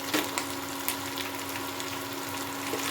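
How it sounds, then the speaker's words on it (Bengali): Sliced eggplant and onions frying in a pan for a begun papda, a steady close crackling sizzle with a few sharper spatters and light stirring knocks, no speech. "এর মধ্যে এখন লম্বা করে কেটে রাখা বেগুনগুলো দিয়ে দেবো।"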